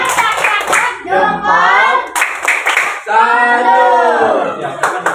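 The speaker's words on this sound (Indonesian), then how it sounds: "Kasih tepuk salut, tepuk salut" A classroom of students claps along to the 'tepuk salut' chant, rhythmic hand claps mixed with loud chanting voices throughout.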